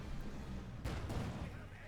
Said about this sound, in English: He's trying to shoot the wire,